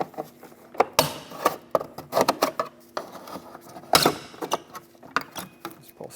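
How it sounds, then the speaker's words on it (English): Door trim panel push clips on a Chevy Express 3500 van being pried loose with a trim tool: sharp plastic pops and scraping clicks in irregular bursts, close by with no talking. "So I'm going to take this same trim tool and stick it back here and just pry it out"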